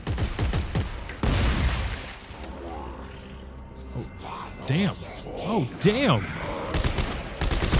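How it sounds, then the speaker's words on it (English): Shotgun blasts and gunfire from the sci-fi survival horror game Dead Space 3 burst out in the opening seconds, followed by creature growls and game effects, with a player talking over the action. "He felt the wrath of the Evangelizer shotgun."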